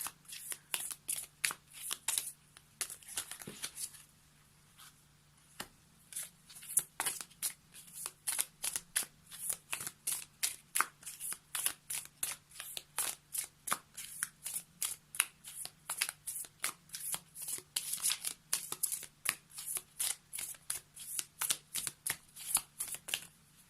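Tarot cards being shuffled by hand for a daily card reading, a long run of quick crisp riffling flutters repeating steadily and close, with a faint low hum underneath and no talking.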